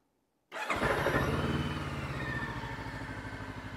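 A Brixton Storr 500 adventure motorcycle's 500 cc engine fires up after a brief silence, then settles into a loud, steady, throbbing idle close by with no talking.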